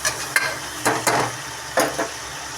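Onions and spices sautéed in a pan for a field-bean kootu at home, with soft sizzling and a few distinct spoon stirs and scrapes against the pan over about two and a half seconds.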